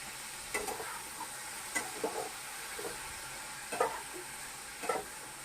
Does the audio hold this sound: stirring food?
yes